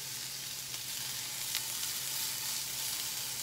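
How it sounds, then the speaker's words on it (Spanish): Onion frying in a very small amount of oil, a steady, bright sizzle holding constant throughout with a faint low hum beneath and no voices. "Ya coloqué solo muy muy poquito aceite, casi nada, porque hay que freír la cebolla."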